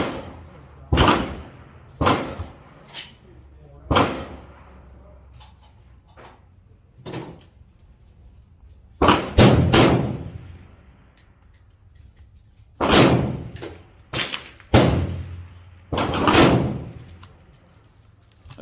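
Sharp rifle shots from an M4 clone build firing at an outdoor range at 50 yards, several loud cracks spaced irregularly, some in quick pairs, with low rumble between them.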